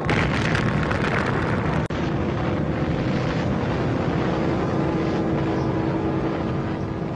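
The first atomic bomb explosion is a loud, continuous roaring rumble with a sudden brief dropout, then a sustained heavy blast noise that rolls on without letup.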